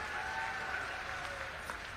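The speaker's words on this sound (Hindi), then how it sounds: "जोरदार ताली बजाओ" A crowd at a political rally in Sambhal, Uttar Pradesh breaks into loud, sustained clapping, a dense, even roar of hands lasting a couple of seconds with no speech over it.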